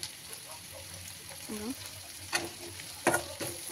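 Ginger and garlic fry in a pan with a steady broadband sizzle, punctuated by a few brief scraping stirs near the end; a faint voice can be heard in the background.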